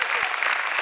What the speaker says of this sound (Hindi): बताइए आप लोग अपनी तालियों से।